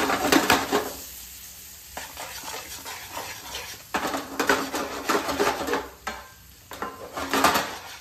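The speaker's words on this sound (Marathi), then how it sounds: "आणि आता त्याला सॉटे करून घेऊया" Paneer with salt and red chilli is sautéed in a pan, with bursts of clattering utensil scrapes and tossing over a soft sizzle and quieter gaps in between.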